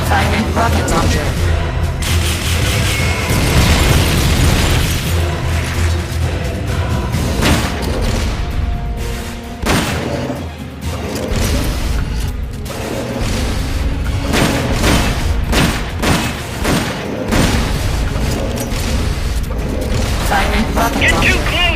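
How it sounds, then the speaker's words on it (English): In the video game Metal Gear Solid: Peace Walker, a rocket launcher fires amid heavy booms and explosions, loud and continuous, mixed with game music, mechanical clatter and voices talking over the action. "Firing rocket launcher."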